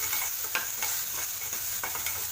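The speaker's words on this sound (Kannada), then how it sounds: "ಸ್ವಲ್ಪ ಫ್ರೈ ಆಗಲಿ." Vegetables fry in a pan with a steady close sizzle, punctuated by a few soft scraping stirs, no voices.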